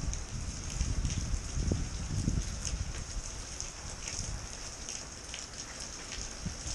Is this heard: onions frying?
no